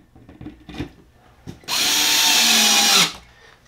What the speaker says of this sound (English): you're going to take your screws and you're going to screw the bypass valve